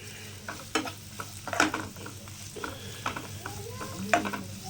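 Sliced onions for a quail pepper fry crackle and sizzle in a pan while a spoon stirs them, with intermittent scraping and clinking strokes, close up and steady.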